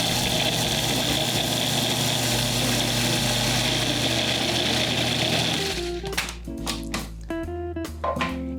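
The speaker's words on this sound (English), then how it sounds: "I'm just going to whir those until it becomes a bit of a paste." Blender whirring jarred roasted red peppers into a paste, a loud steady motor drone lasting about six seconds before it cuts out, leaving scattered clinks and softer handling noises.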